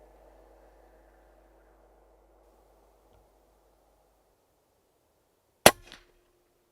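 A single sharp airgun shot fired at a rabbit at night, a sudden crack with a short decay after several seconds of near silence and faint low hum.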